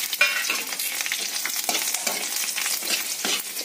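Garlic cloves and dried red chillies fry in hot oil with a bright, steady sizzle and crackle, close and continuous, broken by occasional stirring clicks.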